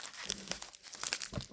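Packaging from an MDF model kit being unwrapped, giving close crinkling and tearing rustles in uneven bursts throughout, with no talk.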